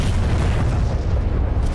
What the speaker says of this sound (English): Ooh, drop a bomb.